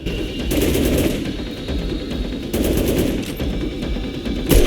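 Rifle and shotgun fire in the video game Dead Rising, loud sustained bursts of rapid gunfire in several stretches separated by short pauses, with a sharp final blast, no voices.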